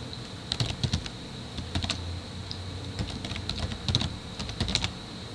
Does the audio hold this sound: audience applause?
no